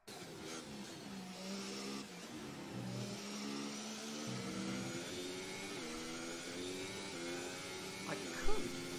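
Formula 1 race cars from the F1 2018 video game scream through gear changes, with layered high-pitched engine whine and rising revs throughout, and a brief louder burst near the end.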